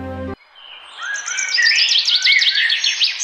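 A myna bird in a Hindi cartoon story chirps in quick rising and falling trills, a clear run of bright whistled notes after a short musical sting cuts off.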